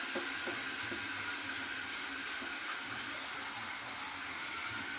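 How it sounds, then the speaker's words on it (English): Warm tap water pours steadily into a cooking pot for Cajun shrimp and sausage spaghetti, a continuous, even hiss and splash close by with no talking. "Put some fresh warmer water in there now"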